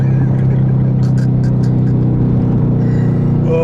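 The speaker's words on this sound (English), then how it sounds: "I'll give him a little taste. There you go." A 2017 Chevrolet Camaro ZL1 V8 runs loud and close with a steady, deep engine drone, holding near-constant revs throughout with a slight shift in pitch toward the end, and no one speaks over it.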